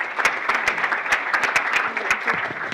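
Clapping from an audience at a hackathon kickoff event, fairly sparse and uneven with distinct individual claps, moderately loud and close, with no talk over it.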